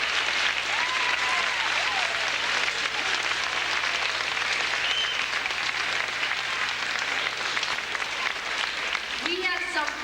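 Sustained, loud applause from an audience after a first grade musical about dinosaurs, dense clapping filling the whole stretch with a few faint voices and cheers mixed in.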